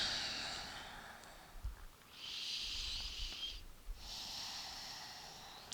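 Slow, deep breathing during a seated yoga twist, two long airy exhales rising and fading, soft and close in a quiet room.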